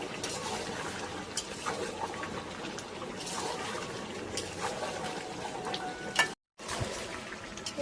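Chicken curry being sautéed down with fried potato in a village kitchen, a low, steady sizzle with occasional wet stirring and scraping sounds, quiet and close, briefly dropping out near the end.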